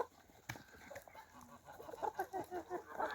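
Hens cluck softly and repeatedly nearby, a rhythmic series of short calls growing busier toward the end, with faint thumps in the background.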